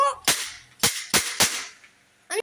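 A Code Red Leo toy gun fires five sharp, loud cracking shots at uneven intervals, three bunched in the middle and a final one after a short pause, with no talking.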